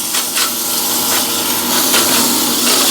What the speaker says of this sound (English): if I just grab a little sandpaper, just a little 180